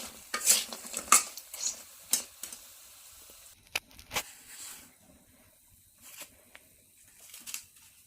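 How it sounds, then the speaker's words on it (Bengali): Curry cooks in a pan while a spoon stirs it in intermittent scraping strokes over a faint, steady sizzle, heard up close with no speech. "এদিকে তরকারি রান্না করবো"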